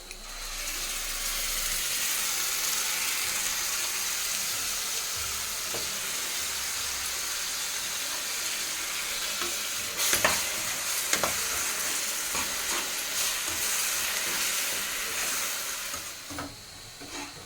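A paste of ginger, tomato and onion fries in a pan with a steady, bright sizzle, while a utensil scrapes and clacks through it in bursts, close and continuous with no speech.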